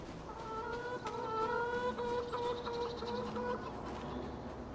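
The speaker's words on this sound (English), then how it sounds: "Chickens." Chickens cluck repeatedly in a low, murmuring chorus in the video game Farming Simulator 25, fairly close, over a faint ambient background.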